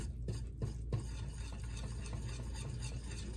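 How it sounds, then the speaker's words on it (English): A wire whisk beats powdered sugar icing in a bowl, with a few sharp strokes early on and then a steady, quiet scraping swirl. "I'm just using this whisk."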